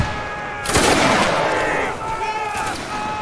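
A musket volley fires in a Roblox Napoleonic battle game, one loud crackling burst of many overlapping shots that rolls on and fades over a second or two, followed by quieter distant shots and ambient noise.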